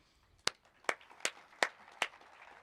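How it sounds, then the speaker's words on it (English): Five sharp, evenly spaced claps sound faintly in a quiet room at an awards ceremony, each one distinct and isolated, with no talk over them. "Applause for the guy who presents the award."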